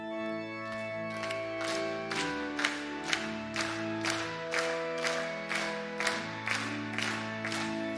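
A church congregation claps in time to Korean hymn 268 during an evening worship service, with steady, sharp beats over the sung and played hymn, and the rhythm stays even throughout.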